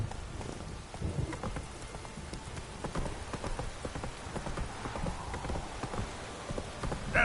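A horse gallops in the Witcher 3 video game, with steady, close hoofbeats over a soft, rain-like hiss throughout.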